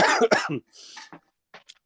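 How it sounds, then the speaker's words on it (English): Two harsh coughs up close from a man with a cold, followed by quieter throat-clearing and a few faint breathy sounds. "this cold weather's got me coughing"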